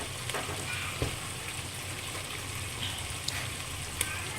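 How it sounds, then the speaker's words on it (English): Tofu pieces simmer in hot sambal, giving a steady close sizzle with fine crackling and a few sharper pops and spits, no voices over it. "Let your tofu pieces simmer in the hot sambal for a minute or so before you actually switch off your stove"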